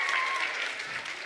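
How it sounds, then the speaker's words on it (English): A short burst of applause, a crowd clapping together in a dense patter for just over a second. "If we give Vaughn a big round of applause."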